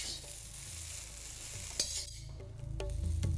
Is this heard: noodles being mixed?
yes